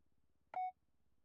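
A single short electronic scanner beep in a FiveM GTA V roleplay, clean and fairly loud against a quiet, faintly ticking background.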